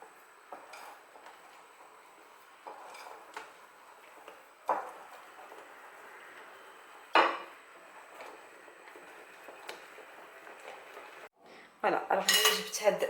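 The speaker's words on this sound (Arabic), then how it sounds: "وهذا الخليط غادي نزيد عليه معلقه كبيره ديال الكاكاو. ونخلطو مزيان" A spoon stirs a big spoonful of cocoa into a mixture in a kitchen bowl, giving scattered metallic clinks and scrapes against the bowl that grow busier and louder toward the end.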